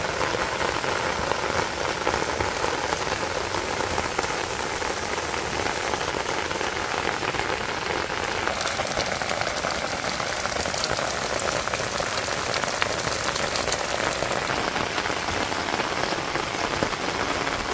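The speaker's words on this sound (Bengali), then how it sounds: "কত সুন্দর বৃষ্টি পড়তেছে দেখেন।" Monsoon rain pours steadily over a village, a dense, even wash of drops on surfaces that continues unbroken throughout with no talking.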